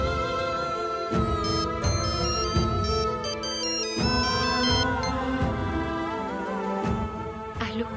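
A phone ringing during an outgoing call in a French-dubbed drama, a melodic ringtone repeating in regular bursts for several seconds with no voices.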